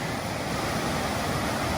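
A flowing stream in Gorges State Park rushes with a constant dense broadband roar, loud and close, while water bottles are filled, with no talking heard.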